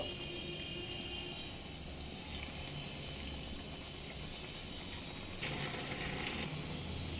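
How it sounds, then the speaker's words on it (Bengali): Steady sizzle of banana-stem koftas frying in hot mustard oil over a medium flame, a continuous crackling hiss throughout with a slight surge toward the end. "মিডিয়াম ফ্লেমে উল্টে পাল্টে গোল্ডেন করে ভেজে নেব"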